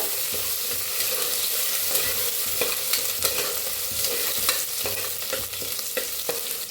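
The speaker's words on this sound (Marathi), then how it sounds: "आता फोडणी ह्याच्यात घालूया तेलामध्ये लसूण आणि हिरवी मिरची" Garlic and green chillies frying in hot oil in a pressure cooker for a spicy village-style chicken, a continuous close sizzle broken by frequent stirring scrapes and clinks.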